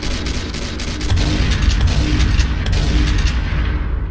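Dense gunfire rattles in the Roblox game After The Flash, a loud sustained barrage of rapid shots and booms that rumbles on for several seconds before tapering slightly at the end.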